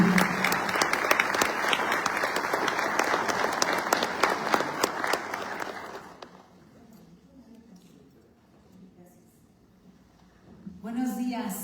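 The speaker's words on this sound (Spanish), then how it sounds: "Brindamos un fuerte aplauso" Audience applause at a criminal law conference in Tlaxcala, a dense, steady clapping from many hands for about six seconds that then fades out, followed by a quieter stretch and the start of a speaking voice.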